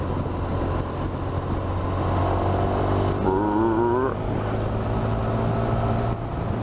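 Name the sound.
Honda Crosstourer motorcycle riding in sixth gear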